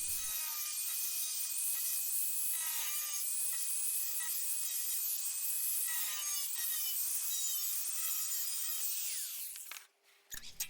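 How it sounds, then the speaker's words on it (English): Corrugated sheet being ground in a garden produces a loud, continuous harsh grinding with a steady whine for most of the stretch, then cuts out abruptly near the end. "A little bit of grinding."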